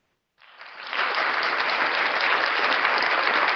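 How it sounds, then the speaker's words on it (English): Applause for presenters at an online international academic conference session, starting after a brief silence and swelling into steady, dense clapping that holds evenly to the end. "please give applause to Dr."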